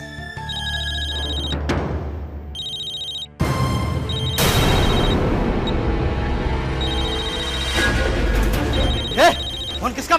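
A mobile phone rings with a repeating electronic tone in bursts, mixed with dramatic music and crash-like hits in a television drama scene.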